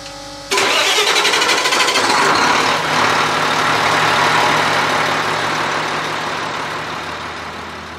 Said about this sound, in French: le premier moteur avant de le démarrer